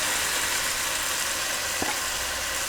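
Leftover turkey fries in a pan with a soft, even hiss that holds steady throughout, with one faint knock partway through, close and without speech.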